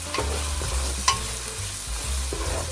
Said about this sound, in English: I add 3 tablespoons of ginger garlic paste and fry on medium-high heat for 1 to 2 minutes.